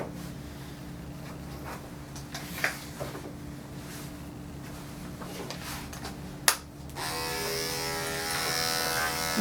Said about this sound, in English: Get everything through the clippers.